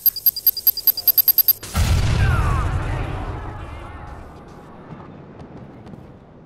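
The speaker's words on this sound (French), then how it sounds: "Balancez une grenade!" A grenade goes off in Watch Dogs with a deep, loud boom that rolls into a long rumble and slowly fades, after a quick run of sharp electronic beeps.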